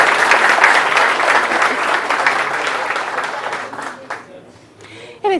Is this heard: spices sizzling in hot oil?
no